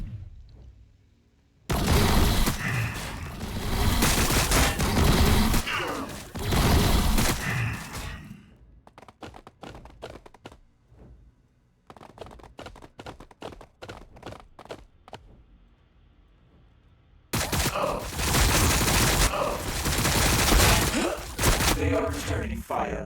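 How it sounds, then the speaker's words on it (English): Gunfire exchange in the Warhammer 40,000: Battlesector strategy game, Necrons against Tyranids, comes in loud sustained volleys, broken by a stretch of sharp, sparse individual cracks and a near-silent pause before another heavy burst returns. "They are returning fire."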